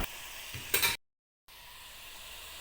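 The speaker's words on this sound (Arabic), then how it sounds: "معلقه سمن بلدي هحمر فيها معلقه توم مفروم ومعاهم نص معلقه كزبره ناشفه" Minced garlic and dried coriander frying in a spoonful of clarified butter, a soft bright sizzle that swells sharply for a moment, cuts to silence, then returns as a steady quiet hiss.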